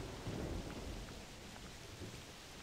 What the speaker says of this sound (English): This rain's going to make tracking things harder.